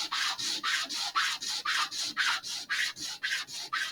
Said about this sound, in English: I'm just going to sand it until hopefully all the black part is off.